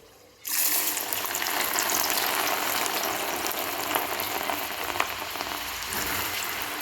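Lentil batter vadas dropped into hot oil, a sudden burst of vigorous bubbling sizzle that starts sharply and keeps up loud and continuous, with a few small pops.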